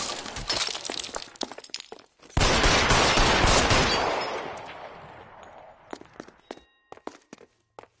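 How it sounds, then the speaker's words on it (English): Gunfire in the crime video game L.A. Noire: scattered sharp shots, then a dense, loud burst of rapid fire that rolls off and fades, followed by a few isolated cracks and thuds. "He's shooting."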